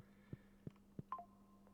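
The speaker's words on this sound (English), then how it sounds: "I've got my phone on ringer because I'm waiting for like a notification to come through" A short electronic phone app notification chime with three soft evenly spaced taps followed by a brief two-note tone, quiet against a low steady hum, no voices.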